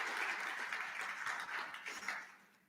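Brief round of applause from an audience at a youth recognition celebration, moderately loud clapping that holds steady and then fades toward the end.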